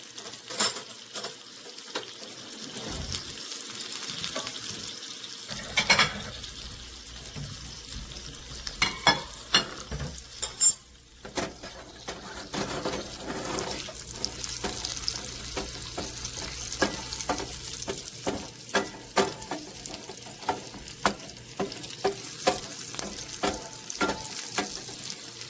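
Green beans coated in pressed garlic fry in brown butter with a steady, close sizzle. Clinks and scrapes of utensils against the pan repeat throughout, with no talking.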